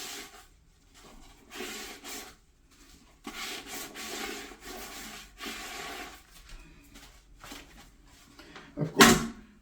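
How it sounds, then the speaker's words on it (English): Scrubbing a stain in a toilet bowl with Lysol cleaner: close rubbing and rasping strokes in uneven bursts with short pauses, ending in a sharp louder scrape. "I'm going to rub it,"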